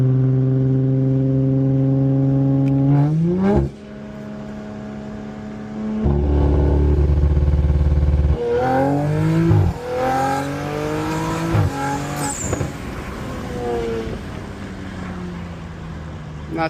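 Audi RS5 doing a rolling anti-lag pull: loud engine revving and rising through several gear-like sweeps with crackles, then a burst of hard acceleration that climbs again, close and continuous throughout.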